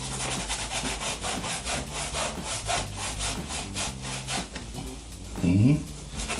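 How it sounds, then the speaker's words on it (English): A brush scrapes rhythmically across rough canvas in steady back-and-forth strokes that sound like hand-sawing wood, close and fairly loud, with a brief voice near the end. "you can actually hear the texture of the canvas. It sounds like I'm sawing wood."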